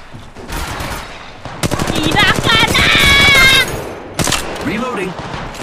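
Rapid automatic gunfire in the mobile shooter Apex Legends Mobile, loud bursts of repeated shots with short pauses between them, and a voice talking over part of it.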